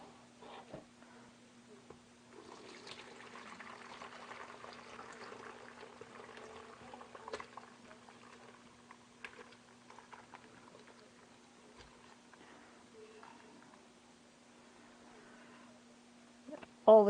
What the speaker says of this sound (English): Now we will strain our broth